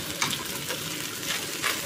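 Sardine pieces fry in a very hot pan with a steady close sizzle, and a few brighter crackling bursts rise as the fish is moved or stirred. No one speaks.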